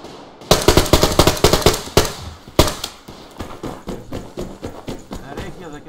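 Rapid bursts of AK rifle fire in the online shooter Survarium, loud sharp volleys with a long burst early and further shots later, mixed with other game sounds and voice chat.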